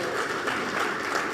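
Brief burst of audience applause at a tech conference, a dense, continuous clatter of many hands heard fairly close throughout.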